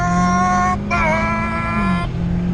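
A Mazda drift car launches down an unprepped drag strip with a loud, sustained engine roar and shifting revs as the tires spin, heard close and without talk.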